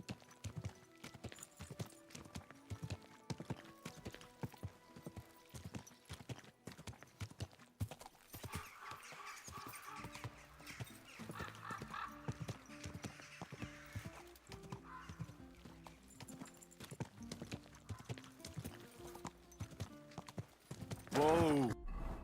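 Horse hooves clip-clop at a steady walking rhythm in a medieval video game, close and continuous under background music, ending in a short sharp whinny near the end.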